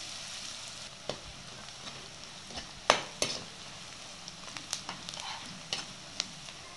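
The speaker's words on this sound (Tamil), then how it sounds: "வெங்காயம் பொடியாக அரிஞ்சு வச்சுருக்கோம், ரெண்டு வெங்காயத்தை அதை போட்டுக்கலாம். நல்லா எண்ணெயிலேயே ஃப்ரை பண்ணுங்கள்." Finely chopped onions sizzle steadily in hot oil in a pan for a Tamil ladies finger tamarind curry, a soft continuous frying hiss with occasional small pops and stirring clicks.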